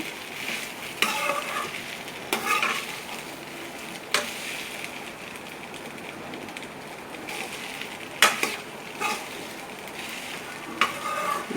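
Leftover rice tossed with spice powder in a hot pan, scraped and stirred with a steady soft sizzle and occasional sharp spatula clinks against the metal, close up with no talking.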